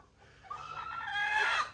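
An Aseel hen gives a single rising, drawn-out vocal call, loud and close, in a quiet barnyard setting with no talk.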